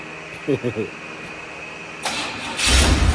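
A car engine cranks and catches, then settles into a running idle, close and loud; brief low knocks come first, and a voice speaks over part of it.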